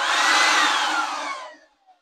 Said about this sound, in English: I would like to keep this in my van for blowing the dust off my tools